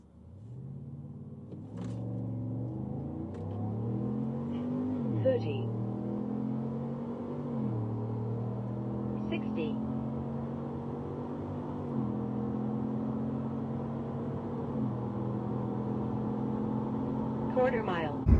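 A Chevrolet Silverado ZR2 pickup with an LT2 intake making a quarter-mile acceleration run: a close, loud engine roar climbs in pitch through each gear, drops at several shifts and then climbs again, with a steady rumble throughout.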